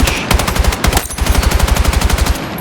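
Rapid automatic bursts from an MP5 submachine gun on a weapon range in Battlefield 6, loud and close, two long sustained strings of fire separated by a brief pause.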